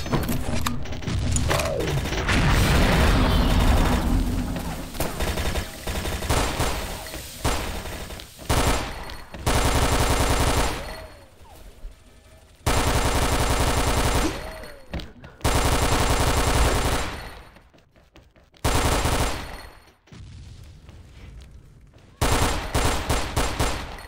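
AUG rifle gunfire in a first-person shooter video game, sounding as loud sustained automatic bursts that start and stop abruptly, broken by short quiet gaps and mechanical clicks.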